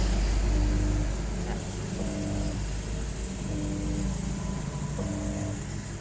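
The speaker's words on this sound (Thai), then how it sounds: "ใบนิ่งไม่ขยับอะไรเลยได้ยินเสียงมอเตอร์นะครับ" A washing machine motor that fails to spin its blades drones with a steady low hum throughout, with faint higher whines and a soft repeating mechanical pattern, no voices.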